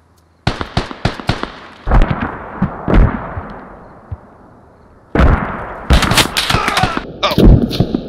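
Gunfire in a combat video game: sharp, loud shots in scattered bursts, a few single cracks early, then a dense rapid volley near the end, with no talk over it.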